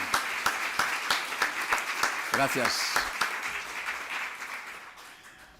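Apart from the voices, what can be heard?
audience applause welcoming the speaker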